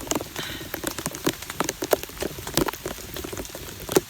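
Steady rain falling outdoors during an overnight camp-out in monsoon season, a dense continuous patter with scattered louder drops striking nearby surfaces, no one talking.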